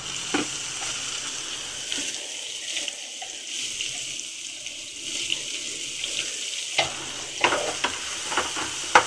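A steady frying sizzle of ground onion, ginger and garlic paste fills the pan, with intermittent clicks and scrapes from stirring; no one speaks.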